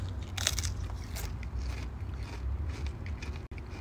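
Crunchy sweet chili flavored long potato chips being bitten and chewed up close, with steady crackling crunches and bright snapping bites throughout.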